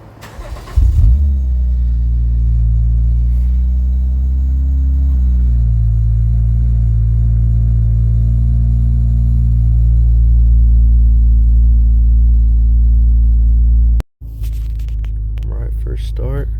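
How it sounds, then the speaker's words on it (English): A 9th-generation Honda Accord with a freshly flashed E85 tune cranks and catches on a cold start, then settles into a loud, steady idle with slight rises in revs, running close by for over a dozen seconds. "this should be the real first cold start"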